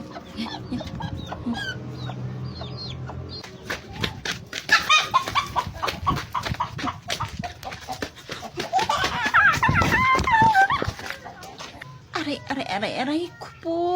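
A chicken clucking and squawking nearby in bursts, with children's voices talking and shouting over and between the calls.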